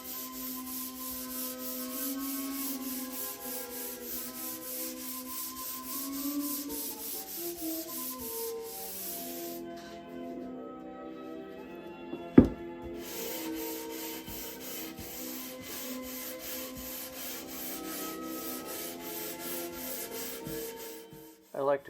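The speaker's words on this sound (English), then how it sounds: "I like to count the strokes when I'm sanding." Wooden boards sanded by hand in a workshop, a steady run of rhythmic rubbing strokes heard up close and alone, with one brief pause partway through and a sharp knock near the middle.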